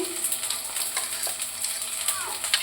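Oil sizzles steadily on a hot nonstick tawa being readied for ilish paturi, a soft continuous crackle with a few sharper pops and light clinks close by.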